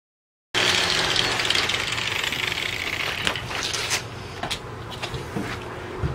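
An angle grinder shapes a bullnose edge on ceramic tile, giving a steady, loud grinding whine that runs unbroken after a brief silent start, with a few scraping flares near the end.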